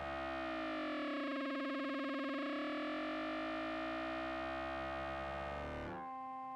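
A Computone Lyricon wind synthesizer sustaining a buzzy, distorted tone as its wind overtones oscillate, with wavering high harmonics layered over the note before it cuts off abruptly near the end.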